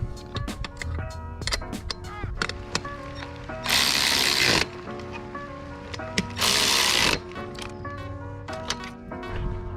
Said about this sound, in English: Now let's finish bolting this bad boy.